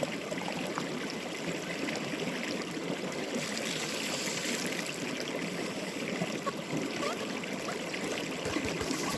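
Creek water flows and trickles steadily nearby, a continuous broad rushing with small splashes, fairly quiet and unbroken throughout.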